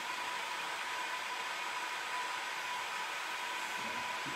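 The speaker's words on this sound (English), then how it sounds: "Use your heat gun again." A handheld heat gun blows steadily while heating oak U-bend wood moulding for bending, a constant airy whirring roar close by with no voices.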